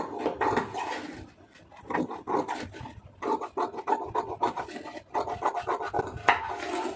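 Scissors cut through blouse lining fabric in a steady run of rasping, rubbing snips, close and fairly quiet, with brief pauses between strokes and no talk.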